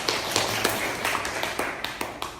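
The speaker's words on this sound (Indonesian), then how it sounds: "tepuk tangan untuk kita semua" Classroom applause at a vocational high school lesson, a group of students clapping hands in a brisk, uneven patter of many overlapping claps, moderately faint and steady throughout without speech.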